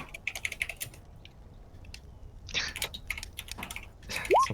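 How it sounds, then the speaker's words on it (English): A computer keyboard is typed on in quick, irregular bursts of faint, light clicks close to the microphone, with soft murmuring voices in the background. "Sounds like somebody's typing out a terrible review for this one."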